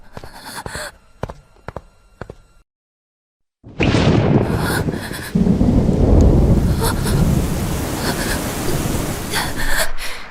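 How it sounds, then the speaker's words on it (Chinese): A heavy thunderstorm with pouring rain on a stormy night, a courtyard setting, bursting in loud after a brief silence; steady dense rain roars on with rumbling thunder, preceded by a few sharp knocks and faint sounds. "下雨了"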